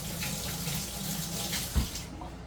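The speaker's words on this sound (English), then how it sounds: "Let me rinse my hand off one more time." A kitchen tap runs steadily while a hand is rinsed under it, a close, soft splashing flow with one brief thump near the end.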